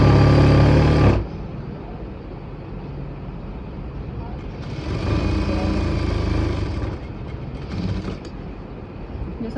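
A sewing machine stitches the hem of a simple kurti in close, loud bursts, running briefly at first and then again for a couple of seconds, with quieter handling noise in between.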